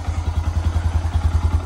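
A 2022 Honda Grom motorcycle engine running just after starting, with a steady, rapid, low thumping idle that is close and loud, with faint mechanical clatter and no talk.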